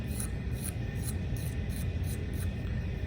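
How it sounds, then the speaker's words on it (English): A clay coil pot's surface is lightly scratched in a steady rhythm of about seven short, soft strokes, each a quick rasp over a constant background hiss. "After you're done with that, you could scratch the surface lightly"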